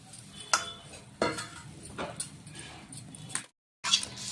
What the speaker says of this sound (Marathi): हे पापड यामध्ये टाकून द्यायचे, छान असं मिक्स करून घ्यायचं आणि थोडा सांबार टाकायचा